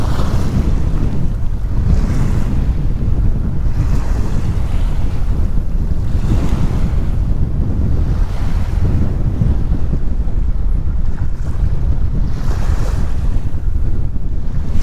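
Strong wind buffeting the microphone beside the water on a fishing outing, a continuous loud roar with gusts rising and falling and a faint wash of waves beneath, no voices.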